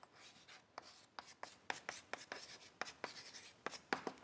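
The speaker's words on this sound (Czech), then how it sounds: "Píšu sčítání." A pen writing numbers on paper for an addition sum, a quiet series of short scratchy strokes in an irregular rhythm, close and faint with no talking.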